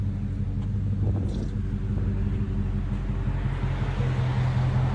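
A Dodge Charger Scat Pack with a 6.4L HEMI and Dynomax Race Bullet mufflers with 5-inch tips rumbles while backing up, a steady, deep, loud exhaust drone throughout with no talking.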